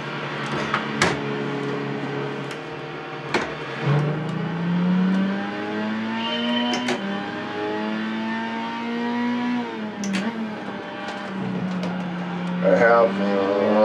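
A tuned 1996 Lotus Elise revving around the Monaco street circuit in Gran Turismo 5, its engine note climbing and dropping repeatedly through gear changes, with someone talking over it.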